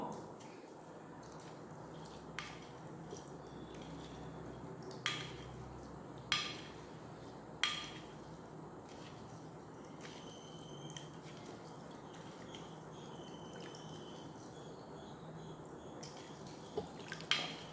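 Cumin and fenugreek seeds are stirred in water, heard as faint liquid swirling with sparse soft clinks and drips spaced seconds apart, quiet and close.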